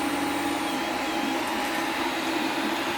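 A 3D printer's filament extruder motor runs in a steady, loud mechanical whir with a constant hum and no pauses or voices.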